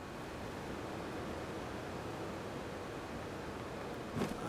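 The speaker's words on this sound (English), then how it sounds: "Thank you for the waterfall." A waterfall in the game Breath of the Wild rushes as a broad, even wash of noise, steady and moderately loud, with a brief rustling burst near the end and no voices.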